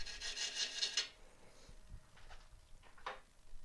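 A sharp gouge cuts into an elm burr spinning on a wood lathe, a bright rasping scrape for about a second, followed by quieter scuffs and one more short cutting pass.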